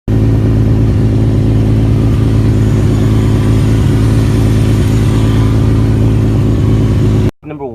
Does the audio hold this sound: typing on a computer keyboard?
no